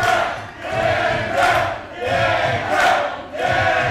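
A wrestling crowd roars in support of the Vampire Warrior, Gangrel, during a match against Johnny Knockout, the loud cheering swelling and ebbing in repeated surges throughout.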